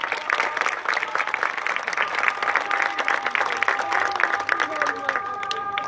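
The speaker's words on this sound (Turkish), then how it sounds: "lütfen kendisine gönülden bir alkış" Audience applause at a Ramadan entertainment show with tightrope walking, steady dense clapping filling the room throughout, with a few sustained musical tones emerging near the end.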